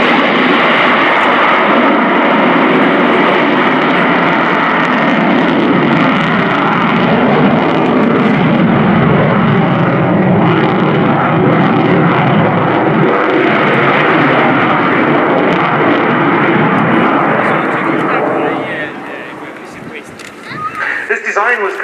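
A Sukhoi Su-27 Flanker jet fighter roars through an airshow display at RIAT 2018, a loud sustained thundering engine rumble that fades near the end, with a commentator's voice over it.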